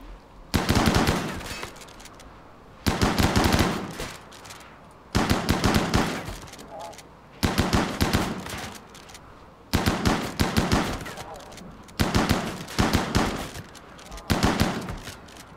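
Chain shotgun blasts from the sci-fi colony game RimWorld, fired in seven loud bursts of rapid overlapping shots spaced roughly two seconds apart, each burst decaying quickly before the next.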